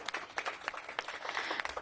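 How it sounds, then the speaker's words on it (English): Short, faint applause at a Los Angeles press briefing on homelessness: a quick patter of hand claps from a modest crowd, heard at a distance. "Let's give them an applause."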